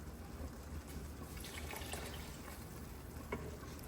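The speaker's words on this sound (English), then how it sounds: "Put a little bit more water in there," Hot water poured into a bowl of ramen to stretch the broth, a faint, steady trickling splash that runs close and unbroken throughout, with no talking.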